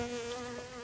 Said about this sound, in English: That bee's hard at work.